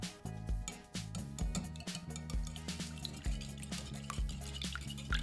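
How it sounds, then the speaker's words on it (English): Four eggs are beaten in a bowl with a fast, steady rhythm of light taps and sloshing that runs continuously at moderate volume. "we'll need 4 eggs in a bowl, and let's beat them up"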